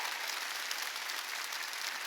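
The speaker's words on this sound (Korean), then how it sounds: "박수 세게 치라요. 더 세게 치라요." A Korean church congregation at a New Year's Eve service applauds in a dense, continuous wash of many hands clapping at once, steady and moderately loud.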